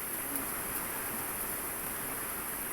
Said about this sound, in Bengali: দেখেন কত জোরে বৃষ্টি নামছে